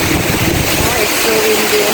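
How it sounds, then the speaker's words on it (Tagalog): Strong typhoon wind buffets the microphone near open water with a loud, constant rushing roar and no pauses. "Oh, it's so windy."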